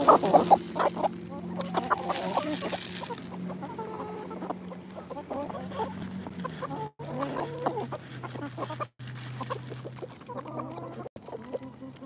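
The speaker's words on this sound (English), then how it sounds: "do y'all want to sit out here and watch the chickens a minute?" Chickens at a farmhouse animal sanctuary cluck steadily in a close, busy outdoor chorus, with overlapping calls and occasional louder squawks.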